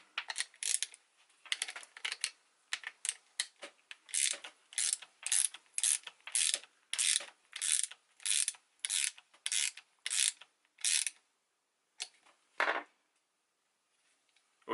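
A bolt on a longboard deck adaptor for a DIY mountain bike build being tightened with a ratcheting tool, a fast series of close, crisp ratchet clicks in bursts, then pausing.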